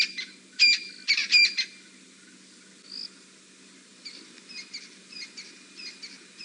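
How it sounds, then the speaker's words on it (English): Crested francolins give their harsh, rattling evening calls in an African bush safari setting: loud bursts of chattering calls come close together early on, then quieter, scattered calls follow over a steady insect drone. "Some crested francolins letting off their evening call."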